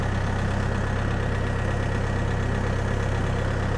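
A DTZ 5404 tractor engine idles in a steady, even diesel chug, loud and close, with no voices.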